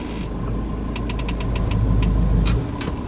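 A campervan engine runs steadily at low idle throughout, a close, continuous mechanical rumble with a faint knocking texture and a few light rattles or clicks on top, while the driver tries to get the van into reverse.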